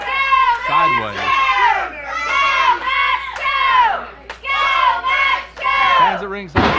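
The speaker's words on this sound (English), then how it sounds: "Fans at ringside cheering for Max" Wrestling fans at ringside in Texas cheer and shout in rising and falling waves, many high voices yelling loudly and close, with short breaks between bursts.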